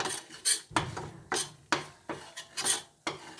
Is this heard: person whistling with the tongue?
no